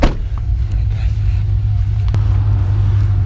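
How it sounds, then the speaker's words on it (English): A pickup truck engine idles with a steady low rumble close by, continuous and even, with a brief click partway through and no talking. "I had the truck running"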